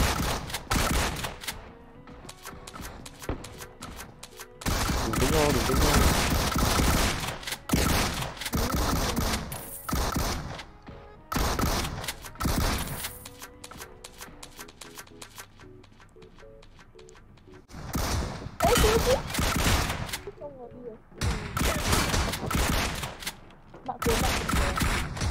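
Repeated bursts of loud gunfire, shotgun blasts among them, ring out in the battle royale game PUBG Mobile, coming in clusters with short quiet gaps across the stretch, with occasional talk.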